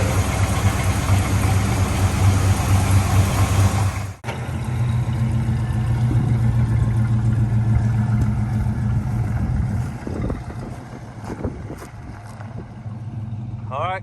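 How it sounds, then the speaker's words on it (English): A Chevrolet El Camino engine idles steadily while warming up, a low, even rumble that stays close and continuous, with muffled voices briefly heard over it toward the end. "So we're gonna let this warm up"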